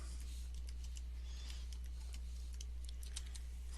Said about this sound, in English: we're going to type in background